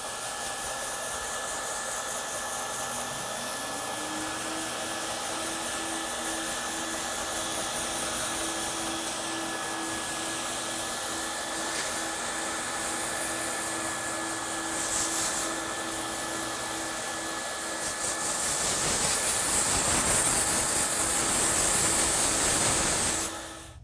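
A vacuum cleaner runs steadily, sucking up dust left from sanding EO2 primer with a 100 grit screen, a constant whining hiss that shifts pitch as it powers up and surges louder near the end.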